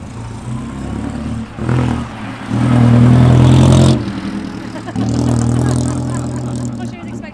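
A vintage 3-litre Bentley Speed Model engine runs steadily at close range, swelling in two louder revving bursts before settling back to a rumbling idle, with voices talking faintly over it.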